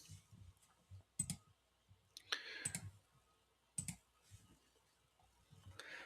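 Computer mouse clicking, a few sharp isolated clicks spread over several seconds amid faint low handling sounds, quiet and close.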